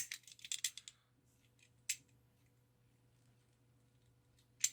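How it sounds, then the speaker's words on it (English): A knife trims a 3mm thick 3D printed plastic puzzle piece: a quick run of sharp, crisp cutting clicks, then quiet with a single snip partway through and another at the end, close and fairly soft. "going to need a knife to trim it"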